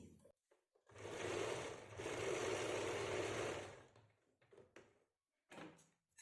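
A sewing machine stitches kameez fabric in a steady whirring run of about three seconds, then stops and gives a few short bursts, close and clear in a quiet room.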